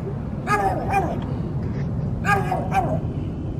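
An old dog, fifteen years of age, gives two pairs of short whimpering yips and barks close by, with quiet murmuring in the background between them.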